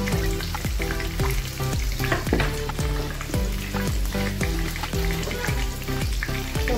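Onion frying in a pan for a cauliflower and green pea bhaji: a steady loud sizzle under repeated stirring strokes, with a clattering rhythm throughout and no voices.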